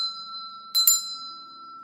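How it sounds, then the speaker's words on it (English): A hand bell rings with a sustained bright metallic tone that is struck again in two quick clangs, ringing on clearly and close with no voices. "I'm going to call in my ancestors with this bell"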